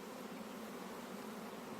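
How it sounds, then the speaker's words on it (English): Thousands of bees buzz at a ranch in a steady, close, continuous drone, fairly quiet overall and with no voices over it. "That's a lot of bees"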